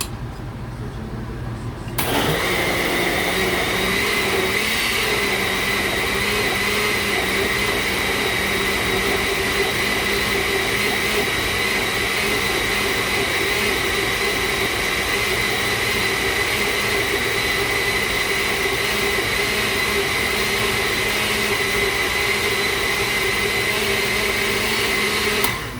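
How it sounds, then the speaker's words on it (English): A blender purees cauliflower mash. It switches on after two seconds and then runs as a loud, steady motor whine with a constant hum and no pauses for the rest of the clip. "and keep blending."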